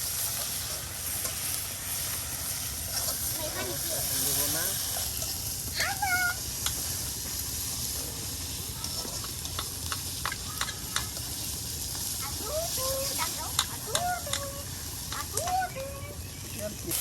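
Spice paste sizzles and fries in a pan during village cooking in Bengal, a steady crackling hiss with stirring scrapes, while a cat meows intermittently and voices talk nearby.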